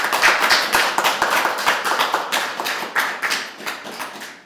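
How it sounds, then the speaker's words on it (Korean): An audience at a public hearing gives a round of applause, with many hands clapping in a sharp, uneven patter that stays strong for several seconds and then fades away. "감사의 박수 한번 드리겠습니다"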